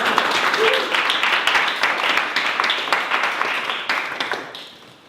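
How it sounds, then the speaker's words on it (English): An audience at a presentation applauds, a burst of clapping from a small crowd that starts strong and gradually thins out and fades over several seconds. "We'll just give Glenn a big round of applause."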